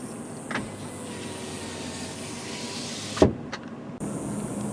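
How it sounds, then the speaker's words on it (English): A power rear window on a 2021 Toyota 4Runner TRD Pro lowers with a steady electric motor whir that ends in a clunk as it stops, followed by a brief quiet pause. "if you do lower the rear window, make sure you lower all the windows so you get airflow"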